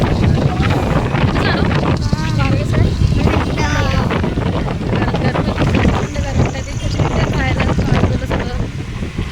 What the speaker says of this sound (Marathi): थंड वारा वाजतो.